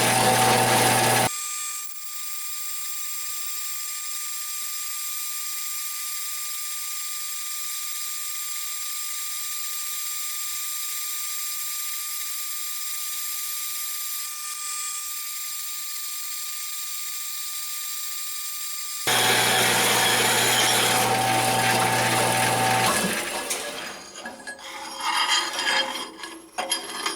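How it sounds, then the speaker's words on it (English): A wood bandsaw cuts a piece of scrap aluminum, giving a loud, steady, unbroken whine for about eighteen seconds. It is harsher and fuller at the start and near the end, then falls into uneven clunks and scrapes as it winds down. "Wood bandsaw for aluminum."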